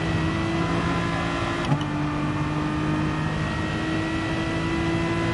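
Race car engine in GT Sport, a TSR GT300 at Interlagos, holding a loud steady high drone with layered harmonics and one brief blip partway through.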